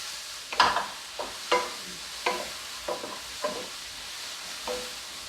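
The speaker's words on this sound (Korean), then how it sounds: "양파는 생것도 먹을 수 있지만은 너무 많이 볶지 마시고 약간 누름빛 나도록 이렇게 살짝만 볶아주세요" Onions briefly stir-fried in a pan for tteok japchae, a soft sizzle punctuated by about six scraping strokes of a spatula, spaced roughly evenly and fading slightly toward the end.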